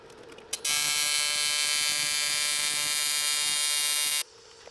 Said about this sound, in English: Gonna need all that welder's got to weld these wheels together.